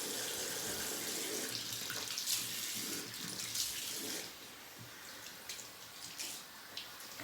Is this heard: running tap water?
yes